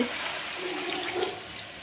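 Water pours steadily from a tap or container into a cooking pot of curry-cube soup, a close, continuous splashing gush with no talk over it.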